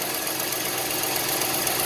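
A 5.7 Hemi engine with a loud tick idles up close, a steady dense mechanical hum with fine rapid ticking running through it, no voices.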